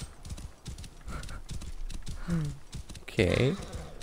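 Horse hooves clip-clopping at a gallop across ground in the video game Assassin's Creed Origins, a steady close rhythm running the whole time, with a brief whinny near the end and someone speaking over it.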